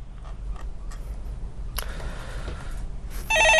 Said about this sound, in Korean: 네, 전화 받도록 하겠습니다